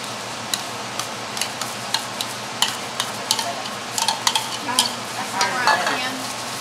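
Canned chilies being mixed into homemade salsa in a bowl, a steady run of close spoon taps and scrapes in an even rhythm, growing busier toward the end.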